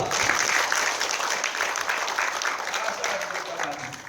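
Audience applause for Pak Ridho at a national awareness training session in Balikpapan, a dense burst of clapping that starts loud and slowly thins out, with a voice faintly underneath.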